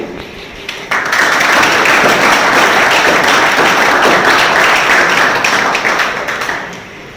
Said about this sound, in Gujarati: આપણે જોરદાર તાળીઓથી એમને ફરી એકવાર આપણે અભિવાદન કરશું